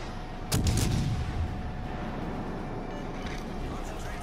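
A battlecruiser's guns fire at the Yamato in World of Warships, one heavy distant boom followed by a rolling rumble over a constant engine and sea drone.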